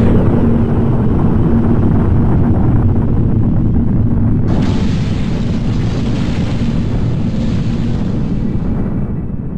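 A hydrogen bomb explosion produces a massive, continuous rumbling roar that fills the air, then swells with a sudden rush of hissing blast noise midway and keeps churning loudly without a break.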